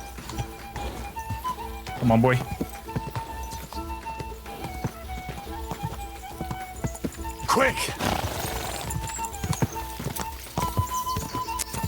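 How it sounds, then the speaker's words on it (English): Horse hooves clip-clop at a gallop in the medieval game Kingdom Come: Deliverance II, a steady rapid rhythm close by, with a whinny and bursts of effort noise, under excited talk from a player. "Guess we should have trained our horse riding a little bit better."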